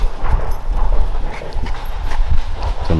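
Dogs out in a yard pant and move about close by, over a steady wash of broadband background noise, with no talking.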